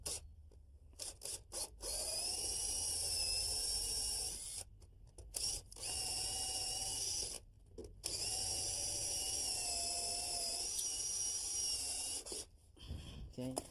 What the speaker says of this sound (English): I want to drill down about 3 inches from the top, holding the drill on an angle